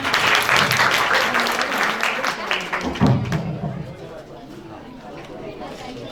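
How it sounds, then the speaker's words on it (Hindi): Loud applause from an audience, dense clapping that swells and then gradually fades, with chatter and voices mixed in. "ताली बजाएं।"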